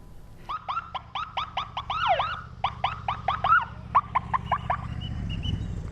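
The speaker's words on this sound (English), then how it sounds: "You can hear some sirens there" A siren yelps in rapid, repeated rising-and-falling bursts at a half marathon, fairly loud, over a low background rumble.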